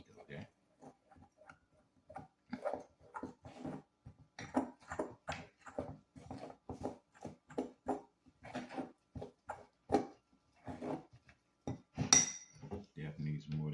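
Heavy cream being mixed into Jamaican spice pound cake batter in a bowl, producing steady close clinking and scraping of a utensil against the bowl in quick repeated strokes, with a voice talking at times.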